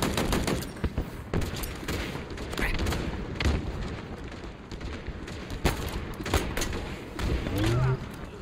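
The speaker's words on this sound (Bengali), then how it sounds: "আচ্ছা আমি ফ্রেন্ডলি ফায়ার করছি" Rapid bursts of gunfire and thumping explosions in a Halo Infinite match, repeated sharp shots in quick succession, mixed with speech.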